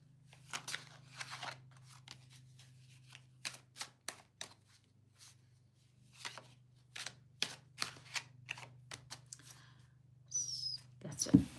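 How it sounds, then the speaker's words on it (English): Playing cards shuffled by hand during a live tarot-style reading, a run of short crisp riffling bursts and flicks close by, spaced irregularly over a low steady hum, with a louder flurry at the end. "I'm going to shuffle again for AV"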